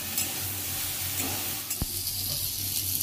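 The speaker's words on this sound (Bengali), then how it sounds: "আর সোয়াবিন ভাজা হয়ে গেছে" Soybean chunks fry slowly in a pan over low heat, giving a continuous close hiss and sizzle with one brief tap partway through.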